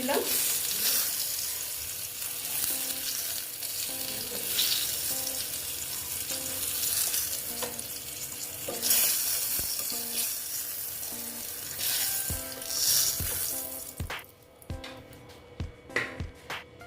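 Ash gourd pieces fry in hot oil, giving a loud, steady sizzle with scattered pops and stirring clinks that thins out near the end.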